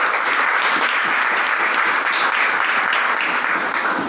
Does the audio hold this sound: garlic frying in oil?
no